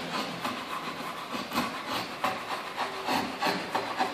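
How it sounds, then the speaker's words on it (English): Sandpaper rubbed back and forth over a carved wooden picture frame, a steady close scratchy rasp in repeated strokes with no talking. "Next step will be to pass the sandpaper"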